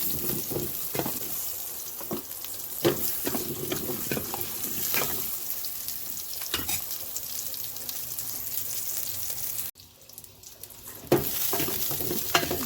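Whole onions and cashews sauté in oil, giving a soft constant sizzle punctuated by irregular spatula scrapes, with a brief near-silent dip before the frying and stirring resume.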